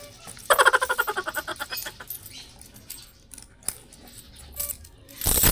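Loose coins jingle and clink as they are dropped into a pile and counted, a quick rattling run of metallic taps up close, then sparser single clinks and light handling noise.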